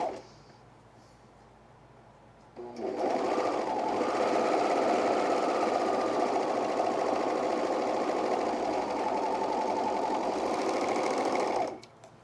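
A sewing machine runs in one long steady burst while stitching a men's quarter-zip fleece pullover, starting after a quiet pause and humming at an even moderate speed, close and fairly loud, then stopping near the end.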